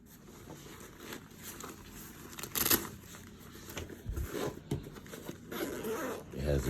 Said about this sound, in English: It has a double zipper, one on each side.